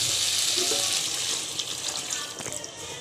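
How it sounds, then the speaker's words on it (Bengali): Water pours steadily into a pot of duck and potato curry, a continuous, close, hissing splash that runs for a few seconds without pause. "এবার জল দিয়ে দেবো।"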